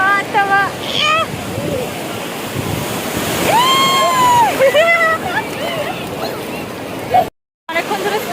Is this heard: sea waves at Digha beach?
yes